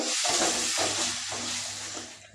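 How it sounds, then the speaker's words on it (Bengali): Garlic paste sautéing in a frying pan for a river fish kalia, a steady close sizzle and hiss with a few soft stirring scrapes, no talk. "রসুনটাকেও একটু কষিয়ে নেব যাতে রসুনের কাঁচা গন্ধ না থাকে"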